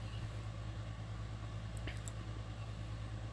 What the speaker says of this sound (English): Very rude, loud car outside,